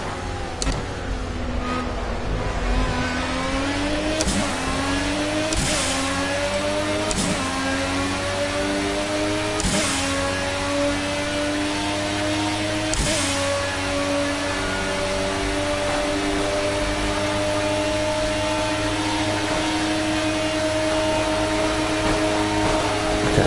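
An LMP1 prototype race car engine screams at high revs around the Le Mans circuit in Project CARS, a steady sustained whine with several sharp upshifts breaking the pitch.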